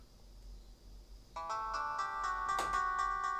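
A UT Starcom CDM 7076 mobile phone plays its ringtone, a clear electronic melody of repeated tonal notes that starts abruptly after a quiet moment and continues close and steady.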